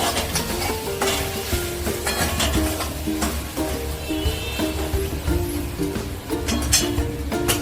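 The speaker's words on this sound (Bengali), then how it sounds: "আবার মশলাটা ভালো করে কষতে হবে।" Spice masala for bhindi (okra) being sautéed and stirred in a pan: steady loud sizzling with repeated scraping and clinking of a spatula against the pan, in an irregular rhythm.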